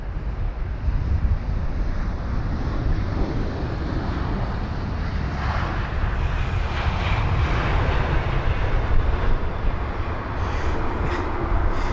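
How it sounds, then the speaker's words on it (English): A British Airways Airbus A319 arriving from Jersey lands at London Heathrow in windy weather, its engines roaring steadily throughout, loud and fairly near, with gusts of wind buffeting the microphone. "is going to be the A319 with flight number BA1341, which had just arrived from Jersey, a 56-minute long journey"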